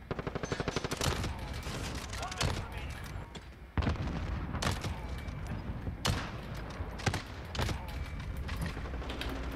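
Rapid bursts of Kar98k rifle hip-fire gunshots in Modern Warfare Season 4, sharp loud cracks repeating through a busy firefight with other gunfire, under occasional voice.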